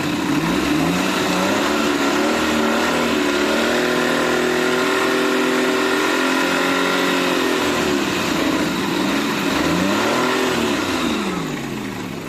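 A Maruti 800 AC MPFI engine running steadily in the engine bay, a close, even mid-pitched hum with a faint rise and fall in revs, heard alone for about twelve seconds.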